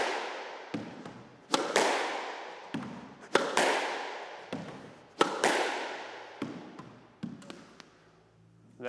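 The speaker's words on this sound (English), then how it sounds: "we don't really want to practice repeatedly hitting the ball off the back wall like this" A squash ball struck repeatedly in an indoor court during solo practice, each sharp racket hit followed by a loud echoing bang off the back wall, about six impacts with long decaying reverberation.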